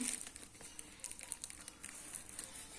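Soft, close-up snipping of scissors through two layers of paper, a handful of irregular crisp cuts mixed with light crinkling, with no voices.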